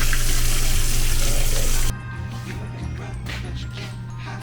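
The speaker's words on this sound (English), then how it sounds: "Water running." Kitchen tap water runs loud and steady for about two seconds over raw chicken, then drops to a quieter continuous trickle.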